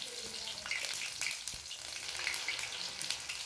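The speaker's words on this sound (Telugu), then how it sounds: "మళ్ళీ అదే ఆయిల్లో 3 టేబుల్ స్పూన్స్ అల్లం వెల్లుల్లి పేస్ట్ని అయితే ఫ్రై చేసుకోవాలి" Ginger garlic paste frying in oil for chicken pickle, a steady close sizzle with faint crackles and stirring scrapes, no voices.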